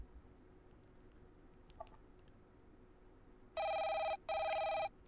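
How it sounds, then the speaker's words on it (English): In the Cold Hearts demo video game, a phone rings loudly after a quiet stretch: two electronic ring bursts, close and harsh, separated by a short gap, with faint clicks beforehand. "My phone sounds way louder than it usually does."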